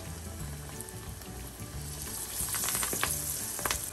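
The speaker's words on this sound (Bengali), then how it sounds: "আমি চুলার আঁচটা কমিয়ে দিয়ে আমি পাকুড়াগুলো ভাজা শুরু করব" Vegetable pakoras fry in hot oil, a steady crackling sizzle that swells louder and busier in the second half, with sharp pops and spits over a constant hiss.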